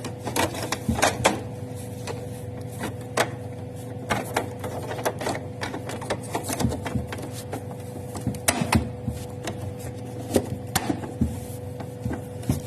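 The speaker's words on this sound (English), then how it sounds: "Fitting the cartridge back into the printer and then show you how it is printing." Plastic ink cartridges click and snap into a Canon PIXMA MG-series printer fitted with a continuous ink supply tank system, giving a string of sharp, close taps and clunks over a low steady hum.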